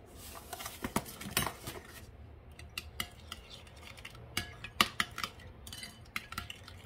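A spoon stirs sweetener into kanom krok batter in a bowl, light clinks and scrapes coming in irregular bursts, faint and close, without talk.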